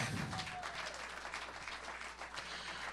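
An audience claps for the volunteer camera and audio crew, a steady, fairly faint patter of many hands sustained throughout without voices.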